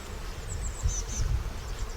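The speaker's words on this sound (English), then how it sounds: "Oh, there's a lot of bees on there." Honey bees buzz around an open hive on a busy day, a steady low drone with a few closer passes of single bees flying by, plus faint handling noise from frames being lifted.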